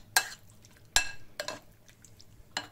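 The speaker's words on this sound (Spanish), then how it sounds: "una cucharada de salsa sriracha, el zumo de media lima o limón y removemos todo bien" A utensil stirs a small bowl of rice vinegar, sriracha and lime juice for a salmon poke bowl, four sharp clinks against the dish at irregular intervals with quiet mixing between, close and without talk.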